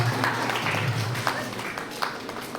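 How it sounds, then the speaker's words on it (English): Thin, uneven clapping from parents at a preschool orientation program, a few scattered hands heard fairly faintly in a room, with a low hum and some voices underneath. "So one clapping is for the parents also. You clap for yourself."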